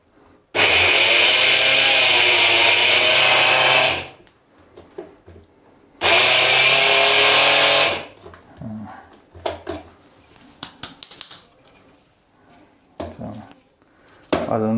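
A mixer grinder grinds peanuts for chikki in two loud whirring bursts of a few seconds each, followed by clattering and handling sounds as the jar is shaken and moved.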